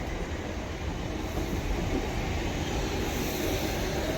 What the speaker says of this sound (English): And my train is coming in now as well.